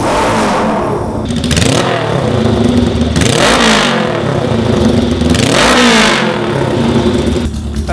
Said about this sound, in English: give it a good rev so you can hear what it sounds like.